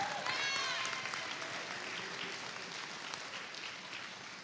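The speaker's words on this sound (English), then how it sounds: "Give a round of applause for Kathleen." Audience applause at a high school Christmas concert, a broad wash of clapping that starts full and slowly thins over a few seconds, with faint voices mixed in.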